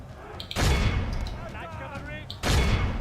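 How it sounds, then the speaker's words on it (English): Cannons fire in the video game Stainless Steel Crusader States. Two heavy, booming blasts land about two seconds apart over dense battle noise, with a voice talking underneath. "Let's get the cannons of the Holy Sepulchre in there."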